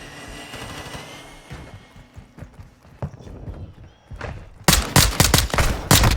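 Gunfire in a first-person video game shooter with akimbo pistols: scattered thuds give way to a loud rapid burst of shots over the last second and a half, close and dominant.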